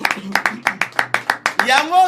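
A church congregation claps in praise of Jesus Christ, about a dozen sharp, evenly spaced claps in a brisk rhythm, close and loud, ending as voices rise in a cheer.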